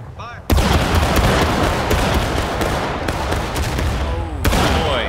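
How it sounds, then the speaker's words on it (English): A company of soldiers fires a heavy musket volley in the video game War of Rights, an abrupt loud crackle of overlapping shots that rolls on for several seconds with scattered later reports. "And that was a heavy volley to come down their line."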